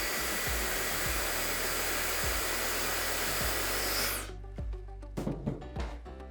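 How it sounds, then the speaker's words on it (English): A blow dryer roars steadily and close while drying hair, with faint handling thumps beneath it. After about four seconds it cuts off, leaving a few light clicks and rustles. "I'm going to hit it with the blow dryer."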